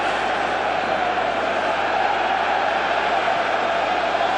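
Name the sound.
stadium crowd cheering during a Mexican wave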